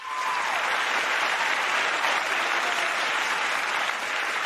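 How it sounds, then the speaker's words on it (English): An audience at a peace festival applauds a family with a steady, loud, dense round of clapping that holds evenly for several seconds without talk. "Please give our Dangi family another big round of applause."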